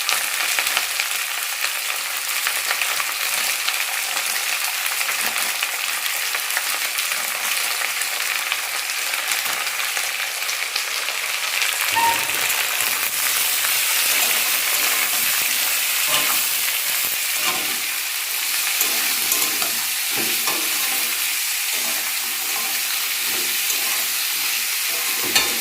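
Potatoes with green chillies and turmeric sizzle in hot oil in a kadai, a loud continuous frying hiss with occasional stirring scrapes and crackles, no talk.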